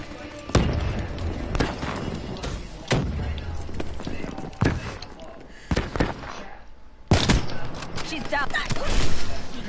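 Sharp gunshots ring out in Black Ops 3 at spaced intervals, some louder than others, with fainter game ambience and a few quieter impacts in between, as befits a sniper rifle.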